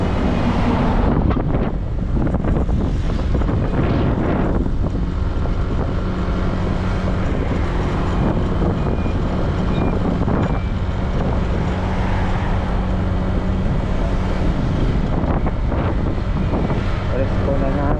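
Strong wind buffets the microphone throughout a road ride toward Amadeo or Tagaytay, a constant loud rumbling roar with gusty surges and a voice occasionally underneath.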